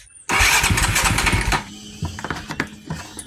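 A 2008 Husqvarna TE450 dirt bike, left sitting unstarted for months, fires up with a sudden loud roar after a short quiet lead-in, then settles into a lumpy, uneven idle with irregular popping pulses.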